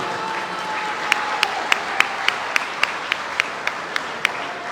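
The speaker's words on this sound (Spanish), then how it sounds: "pido un aplauso para ella" An audience applauds for Colombian culture minister Patricia Ariza at a culture and peace talk, with slow, sparse, evenly spaced claps standing out over a diffuse room murmur.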